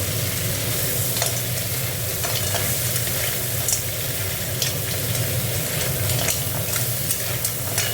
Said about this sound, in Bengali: এবার ওই দানাগুলো ভেজে নিচ্ছি